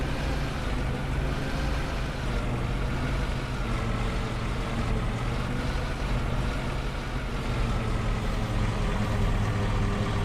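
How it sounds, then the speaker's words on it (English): A run-down old farm vehicle idles in Farming Simulator 25, its engine giving a constant low, rumbling drone that holds loud and even throughout, with no voices over it. "I'm going to keep the engine going because unfortunately I think it's going to stall"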